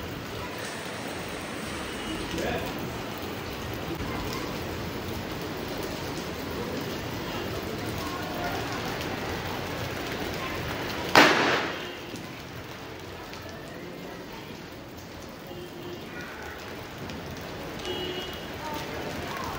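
A soft, steady hiss of rain falls throughout on Diwali, with a sharp crackling burst of firecrackers partway through and faint voices in the background.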